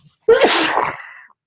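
A single loud sneeze close by, a quick sharp intake followed by a forceful burst that trails off, with silence on either side.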